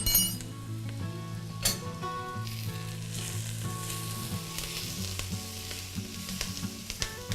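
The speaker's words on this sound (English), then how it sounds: "you cook the onion with the curry for about 1 to 2 minutes" Chopped onion fries with mild curry in a pot, sizzling steadily while a utensil stirs and clinks against the metal now and then.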